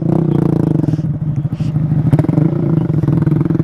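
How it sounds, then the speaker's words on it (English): Dirt bike fitted with a Maxis tire churning through mud, its engine droning steadily and loud throughout with clattering and scraping bursts, while people talk over it. "He's like a true dirt bike right now."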